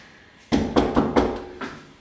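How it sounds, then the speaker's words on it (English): A hotel room door at the RIU Palace Bavaro in Punta Cana gives a quick run of four or five sharp knocks or rattles, close and fairly loud, with no voices. "That's the door."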